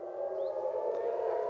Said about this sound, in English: these sirens are being activated across the entire country, in the greater Tel Aviv area, over Jerusalem, Ashkelon, Ashdod, as well as the north